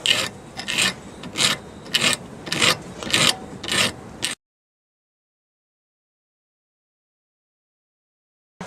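A hand file rasps across a horseshoe nail in about eight quick, rhythmic back-and-forth strokes, close and alone, then stops abruptly into silence.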